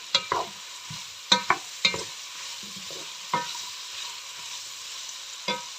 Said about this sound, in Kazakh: Етімізді де сала береміз. Сәл қуырып аламыз тағы да.